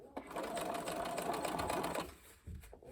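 Sewing machine stitching the seam of a bucket hat, a steady rapid whir of needle strokes for about two seconds, then stopping, with brief handling sounds after.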